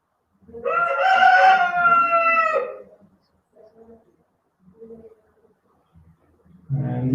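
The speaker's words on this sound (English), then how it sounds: "someone wants to say hi to the party. The rooster." A rooster crows once, loud and close, a long harmonic call lasting about two seconds, followed by faint clucks and a burst of low noise at the end.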